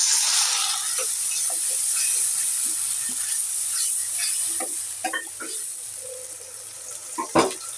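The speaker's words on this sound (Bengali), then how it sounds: "এখন অল্প করে পানি দিয়ে দেব।" Water added to hot shrimp curry in a pan, a loud hiss and sizzle at first that settles into a bubbling simmer with scattered pops and clinks of stirring.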